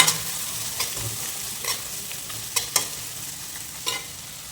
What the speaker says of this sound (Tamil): நம்ம இப்போ ஆனியன் போட்டுக்கிறேன்